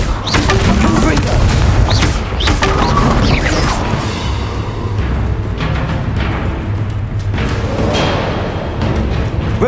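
Explosive booms and crashes from a Confringo fire spell in the Hogwarts Legacy game, during a haunted Hogsmeade quest, loud and continuous over dense battle noise with a spoken voice at times.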